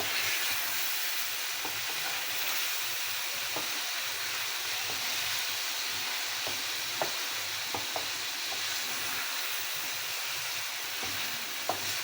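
Chicken and garlic fry steadily in a pan, giving a continuous broad sizzle with occasional small pops and faint stirring clicks. No one speaks.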